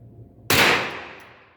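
A single sharp crack from a Delta .22 LR rifle with a bright metallic ring as the round strikes a steel target, decaying over about a second at an outdoor range.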